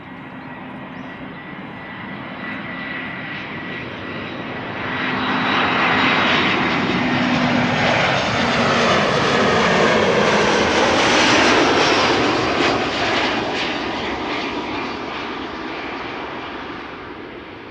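An airliner lands at Amsterdam Schiphol with thrust reversers deployed, a whining approach swelling into a loud, broad roar that peaks midway and slowly fades, with no talk.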